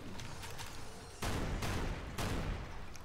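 Shotgun fire in Doom Project Brutality: three heavy, loud blasts spaced about a second apart, each ringing out, over a backdrop of distant, faster rattling gunfire.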